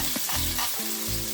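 Pork belly fries in a pan, giving a dense, continuous sizzle with soft stirring scrapes, close and fairly quiet, with no voices.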